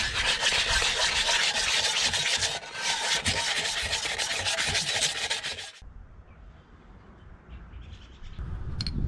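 Valve covers being sanded on a 6BT diesel build for a GU Patrol: steady close abrasive rubbing for about six seconds, then a quieter stretch with lighter scraping and faint background sounds.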